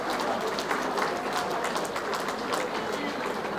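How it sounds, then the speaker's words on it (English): Crowd applause after an amateur MMA bout at a UKFC fight event, a dense steady clatter of clapping filling the venue for the full few seconds, with some cheering mixed in. "please give both of these young athletes a huge round of applause."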